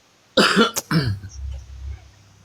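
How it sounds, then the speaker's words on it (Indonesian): A close, harsh cough in two quick bursts, followed by a low rasping throat sound that fades out. "Siapa yang batuk? Ada yang batuk?"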